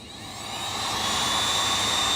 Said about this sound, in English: I'm going to use this heat gun because it goes a lot faster.